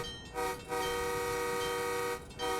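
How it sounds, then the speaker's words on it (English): An MBTA commuter rail train horn on the Providence/Stoughton line sounds in two long sustained blasts with a brief gap between them, loud and steady, with no voices. "I love that horn"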